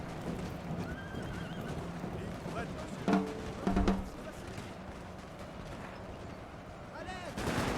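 Musket volleys crack from massed Napoleonic-era troops in Total War: Napoleon, a few short bursts of gunfire that rise above a busy battlefield bed of horses neighing and hooves clopping.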